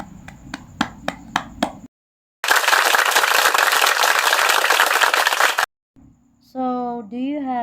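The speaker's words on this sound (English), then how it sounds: "So, let's give a round of applause." A class applauds, a burst of dense clapping lasting about three seconds between a few separate sharp knocks before it and a stretch of voice after it.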